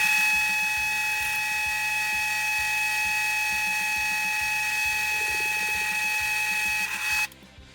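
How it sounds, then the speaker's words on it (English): A drill with a 3/4 inch bit whines at a steady high pitch with a rhythmic grinding chatter as it works through a hard pool ball, then stops abruptly near the end. "we'll be able to drill another hole"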